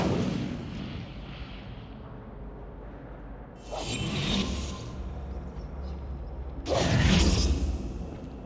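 Incendio fire spell cast in Hogwarts Legacy: two bright whooshing bursts of flame several seconds apart, each starting sharply and fading, over a steady low rumble of game ambience.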